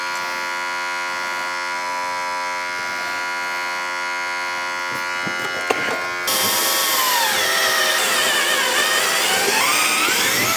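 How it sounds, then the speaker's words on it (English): A power drill pre-drilling holes into a garage wall runs as a steady motor whine for about six seconds, then shifts to a louder, rougher grinding as the bit bites in, continuing to the end with no talk. "So that I can pre-drill some holes."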